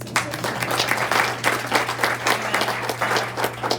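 Steady applause from an audience, many hands clapping together at a constant level with a low hum underneath, no voices standing out.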